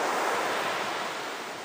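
Ocean waves wash onto a beach in Kenting, Taiwan, a steady broad roar of surf with wind noise, close and continuous without pauses or voices.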